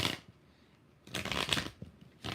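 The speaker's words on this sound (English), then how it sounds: "3 more shuffles." Tarot cards being shuffled in short riffling bursts: one at the start, a longer run in the middle and another at the end, with quiet gaps between and no talk.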